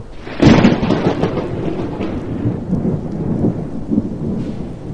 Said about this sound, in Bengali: কর্কর শব্দ করে কোথায় বাজ পড়ল।